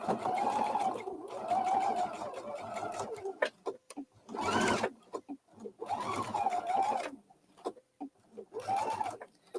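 A sewing machine fitted with a circular attachment runs a straight stitch around a circle on blue fabric, whirring in several bursts separated by short pauses, with some faint background sounds between runs.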